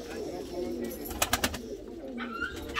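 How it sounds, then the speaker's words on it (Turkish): Tumbler pigeons coo softly inside a loft at a large pigeon facility, low murmuring calls mixed with a few brief sharp clicks or wing flutters and a faint chirp near the end. "Hepsi oyun kuşu."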